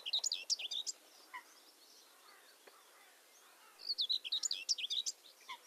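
A displaying migrant warbler delivers a scratchy song in two bursts of chirpy phrases with a quieter gap between them, fairly close and clear, with no other sounds competing.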